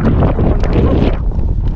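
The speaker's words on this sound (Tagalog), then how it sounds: "lakas ng hangin" Strong wind buffets a microphone outdoors in Finland, a loud, low rumbling roar with gusty fluctuations filling the whole short moment.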